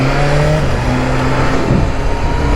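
A BMW S 1000 RR superbike running on a race circuit, its engine drone loud and steady throughout, with a shifting pitch as the rider works the throttle.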